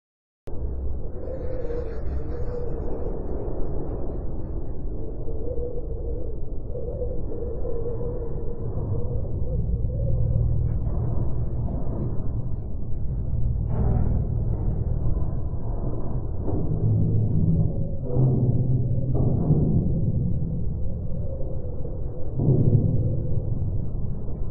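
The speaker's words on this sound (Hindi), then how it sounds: "सौरमंडल के लाल ग्रह मंगल की आवाज़।" A space sound representing the planet Mars, a low, continuous rumbling roar like distant thunder and wind, with scattered crackles and thuds over a steady level.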